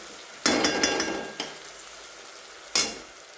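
Tomatoes sautéed in a pan, heard as a few bursts of sizzle when the spatula turns them, with a couple of scraping strokes between quieter fading hiss, close and without talk.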